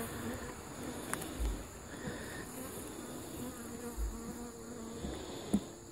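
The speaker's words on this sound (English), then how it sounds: "So I'm going to close this hive up," Honey bees buzz steadily around an open hive outdoors, a continuous close insect drone with brief louder passes near the microphone and low thumps of handling.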